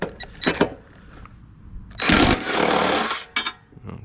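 An impact wrench rattles off the blade bolts on a lawn mower deck in one loud, roughly one-second hammering burst, with scattered clanks and handling noises before and after.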